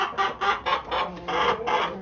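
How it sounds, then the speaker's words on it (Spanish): An egg-laying hen on a chicken farm cackling in a quick series of about eight loud, rhythmic clucks, close by with no talk. "Esa gallina cacarea mucho,"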